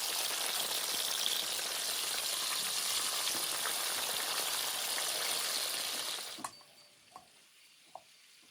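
Potatoes frying in a pan in a Ukrainian village kitchen give a loud, dense, steady sizzle that suddenly drops away near the end, leaving a quiet room with a few faint clicks.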